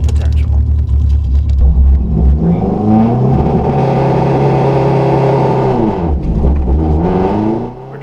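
A rally car at a stage rally sits revving on launch control, the engine droning loud and close before rising and surging away, with a voice speaking over the engine noise.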